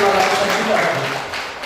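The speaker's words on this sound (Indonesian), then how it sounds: "Itu juga pengurus yang tepuk tangan dong untuk pengurus." Members at an annual cooperative meeting applaud, a diffuse patter of clapping from a hall audience, steady and moderately loud, with a voice speaking over it.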